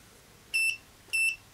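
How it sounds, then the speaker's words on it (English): Multimeter continuity buzzer giving two short, clear high-pitched beeps about half a second apart, close and alone over a quiet background. "check for continuity, I'll even turn on the buzzer here"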